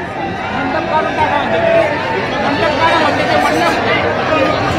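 A huge rally crowd fills the air with a dense, loud, continuous hubbub of overlapping voices and chatter, steady throughout, with no single voice standing out.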